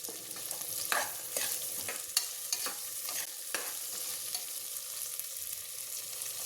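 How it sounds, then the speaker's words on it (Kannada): Curry leaves are stirred in a frying pan while making avarekalu bath, giving a soft oil sizzle with repeated crisp scraping and tapping strokes of a spoon, close and fairly quiet, with no voices. "ಜೊತೆಗೆ ಸ್ವಲ್ಪ ಕರಿಬೇವಿನ ಸೊಪ್ಪು ಹಾಕ್ಕೊತಾ ಇದ್ದೀನಿ. ಮಿಕ್ಸ್ ಕೊಡಿ ಒಂದು ಸಲ."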